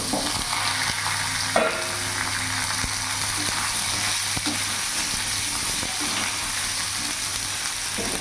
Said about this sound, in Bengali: ফোড়নটা ভাজা ভাজা হয়ে গেছে এবার কেটে রাখা ডুমো ডুমো আলু বেগুনগুলো দিয়ে দেবো